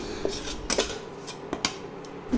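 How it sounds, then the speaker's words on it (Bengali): Powdered milk being slowly fried in a pan on very low heat, stirred with a utensil that clinks and scrapes against the metal in several irregular taps over a quiet background, with no talk. "গুঁড়ো দুধটা খুব হালকা তাপে ধীরে ধীরে ভেজে নিতে হবে লাল ভাব না আসা পর্যন্ত ভাজতে হবে"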